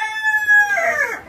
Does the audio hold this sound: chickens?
yes